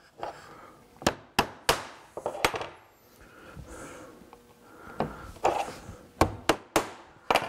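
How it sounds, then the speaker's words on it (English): Nails are hammered through a drilled wooden template into the back of a grandfather clock case, a set of sharp, close, loud hammer strikes in quick clusters with quieter handling noise between them. "We're going to nail it to the back again."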